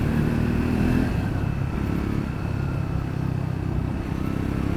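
A Triumph Scrambler 400X motorcycle cruising on a road near Chakrata, its engine a steady, loud low drone with wind roar, heard up close from the rider's position without pause, no talking.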